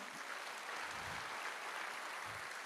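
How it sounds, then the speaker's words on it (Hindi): Applause from an audience at a live gathering, a steady dense wash of clapping throughout, fairly faint and distant, with no voices on top. "रियल में मेरे गुरु के लिए दिल से ताली होनी चाहिए।"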